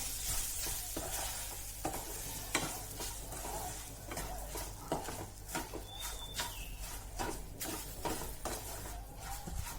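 Totapuri mango sheera mixture being stirred in a pan, a steady run of close scraping and soft sizzling strokes with no talk.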